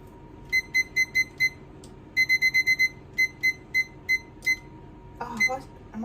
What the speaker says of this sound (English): let me just put 15 minutes on my timer